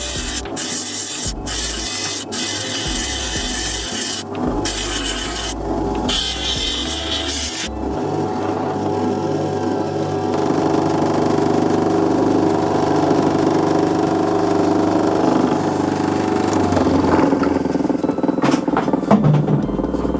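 A lapidary wheel polishes a stone up to 3000 grit, giving a steady motor whir with gritty rubbing and grinding as the stone is pressed to the wheel. Intermittent clicks and bumps occur near the start.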